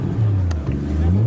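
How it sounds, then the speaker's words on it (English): Brief, loud low engine note from a cold factory 1JZ in a white Toyota Chaser at a car show, a short blip of revving close by. "I'll do a little bit of a rev."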